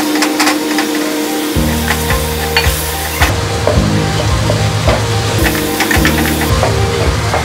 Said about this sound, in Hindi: 1-2 मिनट तक भूनना है तेज़ आंच पे।